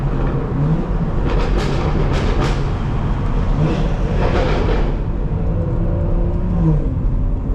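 A loud BMW M6 engine roars past on a New York City street, its deep rumble and revving swelling over steady road and traffic noise from inside a moving car.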